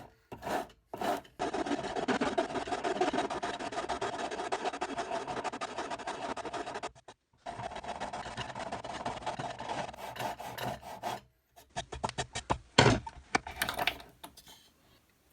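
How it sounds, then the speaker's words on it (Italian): A flat Parkside rasp scrapes across a wooden surface in long, continuous rasping strokes that are close and loud. The filing stops briefly, then resumes and breaks into shorter, choppier bursts toward the end. "con una raspa piatta riuscirei a rendere la superficie più omogenea senza alcun problema"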